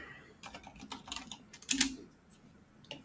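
Keystrokes on a computer keyboard while working in 3D modelling software, a quick cluster of close, light taps with a louder burst in the middle and a lone tap near the end, no talking.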